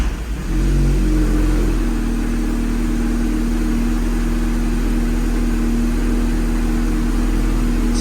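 A Volkswagen Golf MK6 R with an APR turbo-back exhaust fires up and settles into a loud, steady idle, heard close from behind the car with a deep continuous drone.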